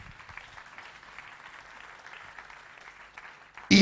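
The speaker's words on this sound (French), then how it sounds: "Applaudissez le Seigneur Jésus" A church congregation applauds with sustained, even clapping that sounds moderately distant, then swells into a sudden louder burst right at the end.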